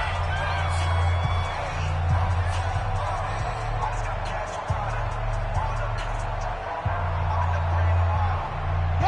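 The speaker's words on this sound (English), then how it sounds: "The crowd getting into it as we come up on a big third down" A stadium crowd in a video game football match roars steadily ahead of a big third down. The cheering stays at an even level underneath loud, continuous commentary.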